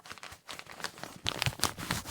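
Gray lining material inside an everyday carry backpack is crinkled up close, producing irregular crackling, rustling bursts that grow louder and denser in the second half, with no talk.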